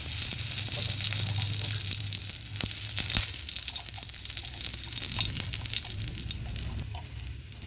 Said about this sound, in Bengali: কড়াইতে আরেকটু তেল দিয়ে দিয়েছি এবার তেজপাতা আর শুকনো লঙ্কা দিয়ে দিলাম